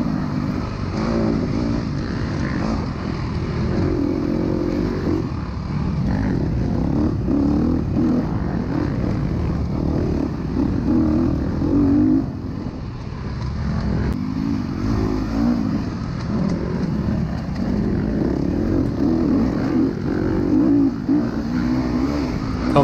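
Off-road dirt bikes race through muddy woods, their engines a continuous rough roar with swells and dips as riders throttle on, close and loud with no voices.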